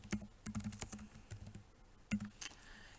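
Keys clatter on a computer keyboard as a quiz title is typed, a close, irregular run of quick taps with brief pauses between bursts and no voices.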